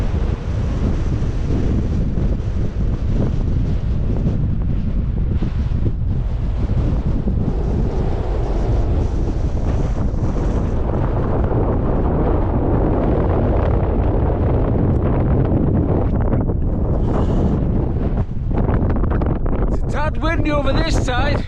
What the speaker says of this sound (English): Whoa, it's a bit blowy